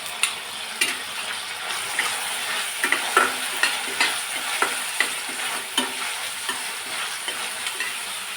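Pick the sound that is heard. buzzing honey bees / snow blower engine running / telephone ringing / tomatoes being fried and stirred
tomatoes being fried and stirred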